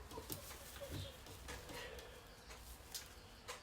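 A bird trapped inside a house, giving soft cooing and fluttering sounds with scattered sharp taps and wingbeat-like bursts, quiet and close over faint room noise.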